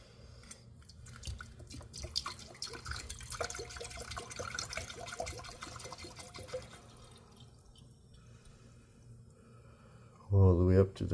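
Sulphuric acid trickles and gurgles as it is poured into a container, fairly quiet and close, with a brief loud bump near the end.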